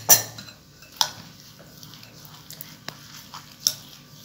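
Beaten eggs and spices being stirred together in a bowl for brinjal rings, with a few sharp utensil clinks against the bowl at irregular intervals between soft, quiet mixing sounds.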